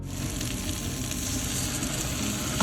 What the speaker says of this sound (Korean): 재료들을 넣고 1분 정도 달달 볶아주겠습니다